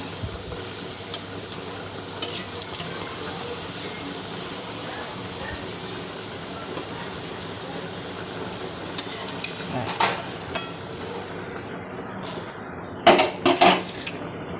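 Luchi, puffed flatbread, frying in hot oil on Dol Purnima morning, a steady close sizzle running throughout with occasional sharp clinks of utensils and brief bursts near the end.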